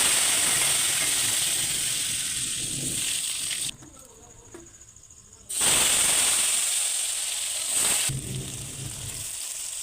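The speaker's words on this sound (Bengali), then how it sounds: "মশলাটা এই যে আলু, তেজপাতা, জিরা দিয়ে দিচ্ছি তেলের উপরে।" Potatoes, bay leaf and cumin hit hot oil in a home kitchen, giving a loud, steady sizzle and hiss that drops away briefly mid-way and then surges back close and strong.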